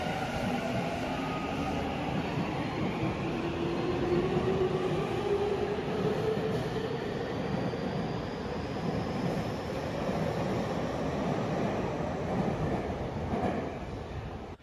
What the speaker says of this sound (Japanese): まずは運賃を見る前に乗ってきた F ライナーを見送ります。